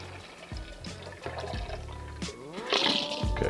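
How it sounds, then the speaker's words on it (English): Liquid glugs and pours into a blender jar, with bubbling gurgles that grow louder and splashier toward the end. "I pour it into the blender."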